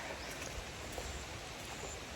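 Steady, hissing rain falls continuously, a soft even wash of drops with no voices.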